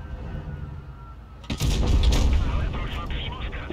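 Heavy tank cannon fire in World of Tanks Blitz, hitting an IS-4 heavy tank: after a quiet start, a loud booming shot lands about halfway through, followed by sustained rumbling battle noise.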